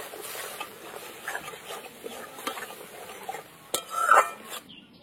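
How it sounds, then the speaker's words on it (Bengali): Spice paste of powdered spices, turmeric and water being stir-fried in oil in a pan for a Bengali chital fish dish, with steady scraping stirs and a soft sizzle, plus a brief clatter of the utensil near the end. "এবার মশলাটা ভালো করে একদম কষিয়ে নেব।"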